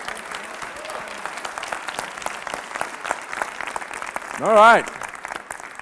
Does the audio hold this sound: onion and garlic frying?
no